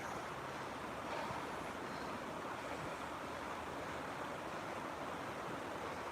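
Wild river rushing far below, a steady broadband roar of turbulent water with no breaks, fairly faint and distant, no voices.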